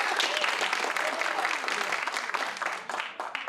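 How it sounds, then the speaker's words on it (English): Sustained round of applause from an audience at an adult theatre school showcase, dense and steady clapping throughout that thins slightly toward the end. "let's go ahead and practice our big support round of applause"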